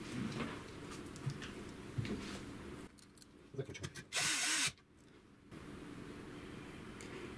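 A part is screwed onto an HP 5L/6L laser printer during reassembly, with small clicks and taps of parts being handled, then a short burst of a power screwdriver running. The work sounds close and fairly quiet.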